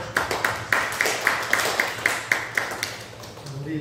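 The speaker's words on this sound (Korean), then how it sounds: "우리 박수로 감사하고" A church congregation claps together in a steady, rhythmic beat of about a dozen sharp claps, fairly close and even, fading out toward the end.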